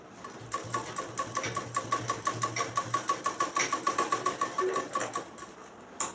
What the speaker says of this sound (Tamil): தைக்கும்போது பின்னில் தையல் படாமல் பார்த்துக்கணும்.